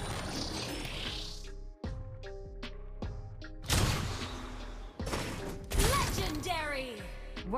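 Sniper rifle fire in a shooter video game: a few loud, sharp shots with sudden broadband cracks, spaced a couple of seconds apart over busy game audio.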